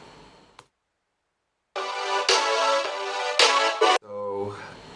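A short musical transition from a rock track leading into the verse: a brief hit, a pause of near silence, then a loud, sustained full-band passage with accented swells that drops into a lower, thinner section at the end.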